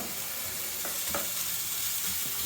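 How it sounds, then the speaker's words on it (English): Sliced onions frying in a pan for Thai pad kra pao, a steady close sizzle with a couple of brief stirring clicks, heard alone. "you can tell that the onion's starting to cook"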